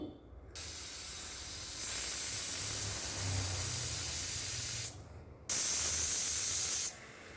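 A pressure cooker cooking mutton in masala lets out loud steady steam hisses, two long bursts of roughly four and one and a half seconds separated by a brief pause, with no talk.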